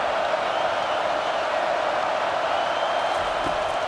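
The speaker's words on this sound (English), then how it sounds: "This crowd knows when to bring it." Stadium crowd in the CFB 25 football video game on PS5 during an SMU versus Penn State playoff matchup, a steady dense roar of cheering that fills the whole stretch at even loudness.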